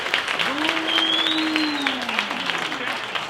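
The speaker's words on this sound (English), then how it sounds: "Yeah, just clap." A live podcast audience in Phoenix claps and cheers together in a steady wash of applause, with a whooping voice rising above the crowd.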